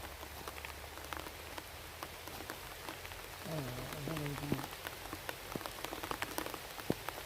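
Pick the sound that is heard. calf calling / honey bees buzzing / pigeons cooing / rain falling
rain falling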